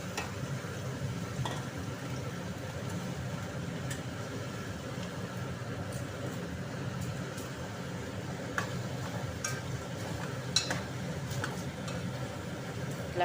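Onions, curry leaves and ivy gourd pieces get stirred in a pan, a faint steady sizzle with soft scraping and occasional light clicks of a spoon, continuous and low throughout.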